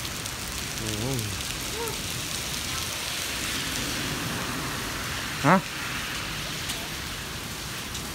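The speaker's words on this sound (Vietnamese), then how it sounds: "Mưa rất là lớn." Heavy rain pours steadily during a tropical storm in Saigon, a dense continuous hiss of drops on surfaces, while a couple of people exclaim briefly and one short vocal shout stands out.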